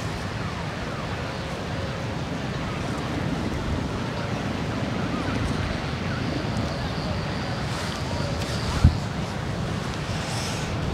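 Strong wind at a kite festival in Purworejo blows steadily and loudly across the microphone, a continuous rumbling roar with a faint voice briefly in the background.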